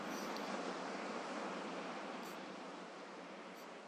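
Ocean surf washes against a shore in a continuous soft broadband roar, steady and fairly faint with little rise and fall, no voices present.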